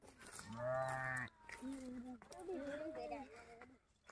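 Sheep kept inside a mud house in a desert village in winter bleat in a few drawn-out calls, close and fairly clear against a quiet room.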